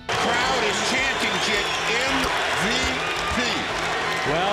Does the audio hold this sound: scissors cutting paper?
no